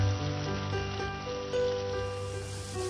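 Chopped onions hitting hot oil in a pan with cumin seeds and curry leaves for a mixed vegetable curry, giving a soft, continuous crackling sizzle under a faint steady hum, close and fairly quiet, with no talking.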